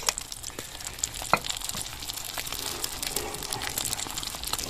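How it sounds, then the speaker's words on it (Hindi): An egg fries in hot ghee in a village kitchen in Pakistan, giving a steady crackling sizzle with frequent sharp spits and pops, close and continuous throughout. "घी गर्म हो गया है। अब इसमें अंडा डालते हैं।"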